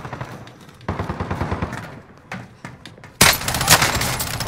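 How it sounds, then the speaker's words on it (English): Rapid gunfire in Call of Duty Warzone Resurgence, a run of bursts that grows suddenly louder and harsher midway, with faint talk beneath. "Who's shooting?"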